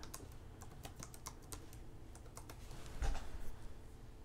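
Rapid typing on a computer keyboard, a steady run of crisp key clicks with a brief denser burst near the end, close and fairly quiet, with no talking.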